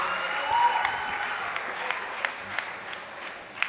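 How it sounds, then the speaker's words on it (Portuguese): A church audience at a gospel thanksgiving concert applauds with steady, moderately loud clapping and a few sharper individual claps standing out. "Mais palmas para a irmã Isabel, faz favor"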